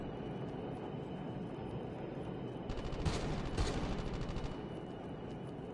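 Gunfire in a Call of Duty: Mobile battle royale match, bursts of distant automatic shots crackling over a steady background rumble, with a denser cluster of rapid shots partway through.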